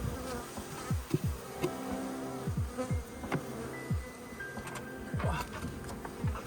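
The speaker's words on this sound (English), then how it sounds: "That's a lot of bees in there now." Honeybees buzz steadily around a hive after a rat attack, with many individual bees droning past close by in overlapping swells, fairly quiet overall.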